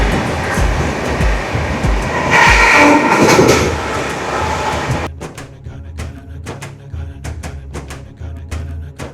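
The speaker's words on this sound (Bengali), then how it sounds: "জগন্নাথ ধাম পুরী যাওয়ার জন্য হাওড়া শিয়ালদার থেকেও বেশি ট্রেন এই শালিমার স্টেশন থেকে ছাড়ে।" Trains rumble at Shalimar railway station in Kolkata, a loud rolling roar at first that gives way to a regular run of sharp wheel clicks over rail joints.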